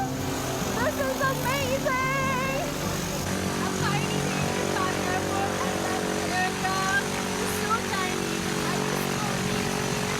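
A plane on the runway at Jufal airport after landing, a steady broadband engine drone with tonal hum throughout, with voices faintly present.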